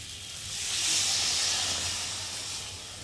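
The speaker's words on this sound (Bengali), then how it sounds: "আর এখন আমি জল দিয়ে দেবো" Water poured into hot fried spice paste for a fish curry, giving a loud, steady hissing sizzle that swells and slowly eases over a few seconds, close by with no talking.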